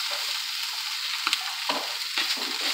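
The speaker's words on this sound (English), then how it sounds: "That's a good sear." Pressure-cooked octopus, head included, searing in a hot pan makes a loud, continuous hiss up close, with a few soft scrapes and bumps as the pieces are shifted.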